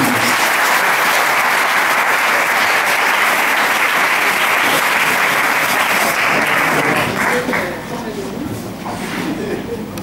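A church congregation applauds loudly and steadily for the guest speaker, with dense continuous clapping and crowd voices mixed in that ease off slightly near the end.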